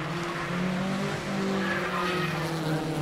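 BMW Compact Cup race car sliding through a corner at Snetterton, tires squealing in drawn-out skids over a loud, steady engine drone, close and continuous.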